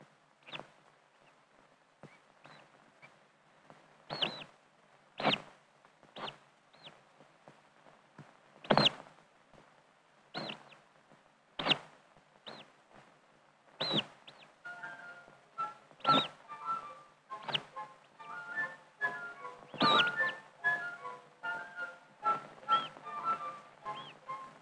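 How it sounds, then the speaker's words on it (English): A young oystercatcher chick working its way out of its shell on a beach, heard close up as a series of sharp tapping clicks and faint scratching, with soft high peeping calls joining in toward the end. "we put a microphone there so that we can hear and see a young oyster catcher working its way out of the shell"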